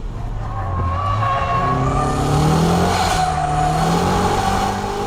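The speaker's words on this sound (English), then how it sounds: "Kick the gas all the way in third gear. Brake, steer, then boom. You let the clutch go without using heel and toe. The rear will suddenly lock." A car in a shift-lock drift in third gear, the clutch dumped without heel-and-toe so the rear wheels lock and slide: loud, continuous engine drone with rising and falling pitch, tire squeal layered over it throughout, close and unbroken.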